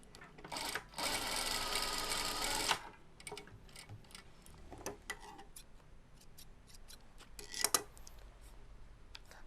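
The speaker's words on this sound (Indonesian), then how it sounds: "Setelah kita jahit keliling seperti begini, lalu kita potong bagian yang nggak kita pakai supaya lebih rapi." A sewing machine stitching around a shirt collar: a steady close whirring run of stitching for a couple of seconds, followed by scattered clicks and handling taps of fabric and machine parts.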